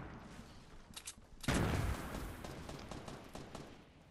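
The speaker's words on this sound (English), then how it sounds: "Derek's just throwing grenades." In a Fortnite match, a grenade blast bursts loudly midway, preceded by a few sharp game sounds and followed by a fading rumble and scattered pops.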